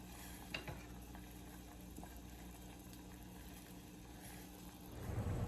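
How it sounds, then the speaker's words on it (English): Tomato and herb mixture simmering in a pan while cooking cod with tomato herb butter: a steady low bubbling and soft sizzle runs throughout, with a few faint utensil clicks and a slight swell near the end. "I'm just going to keep letting it simmer until they're all broken down and most of the juice is absorbed."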